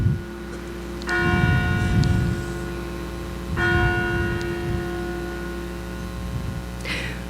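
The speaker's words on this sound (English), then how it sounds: "I'm going to pause for the bells." Church bells ring out loud and near during a Sunday worship service, two strong strikes a few seconds apart whose ringing tones hang and slowly fade, with no talking over them.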